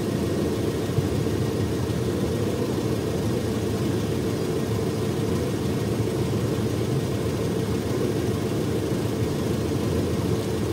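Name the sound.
Proton Saga 1.5L I-GT engine idling, air-conditioning off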